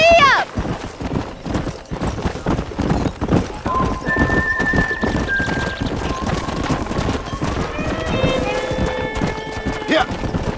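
A horse gallops in Red Dead Redemption, its hooves pounding in a fast, steady rhythm throughout, with a short whinny at the start and tonal game music and voices rising later.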